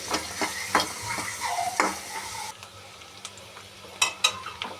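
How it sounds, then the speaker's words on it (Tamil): Onions frying in oil until brown for a fish kulambu, a low sizzle broken by several close clinks and scrapes of a stirring spoon against the pan, without speech. "வெங்காயம் போட்டதுக்கப்புறம் நல்லா வெங்காயத்தை நல்லா ப்ரௌன் கலர் வர வரல ஃப்ரை பண்ணிக்கணும்"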